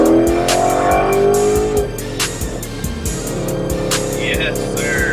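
A tuned 2020 Ford Mustang GT spins its wheels, rear tires squealing in sharp, repeated bursts over a loud, throbbing V8 engine, with the pitch dropping and a brief lull before more revving; a voice is briefly heard.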